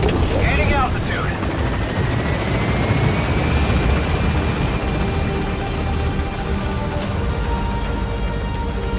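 Helicopter from Metal Gear Solid V climbing after extraction, a steady loud rotor and engine drone with a rising whine that holds continuously throughout.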